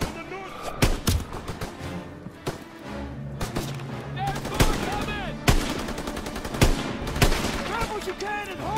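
Gunfire in the Call of Duty: WWII Death Factory level: sharp rifle and machine-gun shots crack out irregularly, some loud and close, others farther off, over a busy battle din with voices shouting underneath.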